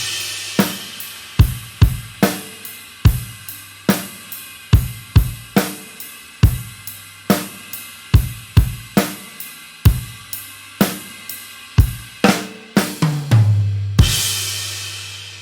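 A short piece of music, played as a demonstration of ritardando, moves through a run of evenly spaced, punchy notes at a steady tempo, then slows as the gaps widen, finishing on a sustained final note; solo instrument, close and clear, no talking.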